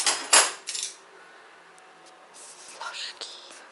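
Metal spoons clink and rattle in a few short bursts at close range as they are picked through and chosen, with quiet gaps between and faint soft voices.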